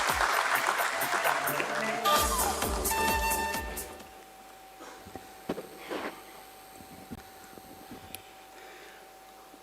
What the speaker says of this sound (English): Let's give a huge round of applause to him